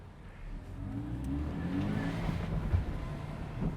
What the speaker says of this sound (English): Let's go for a drive, Luke.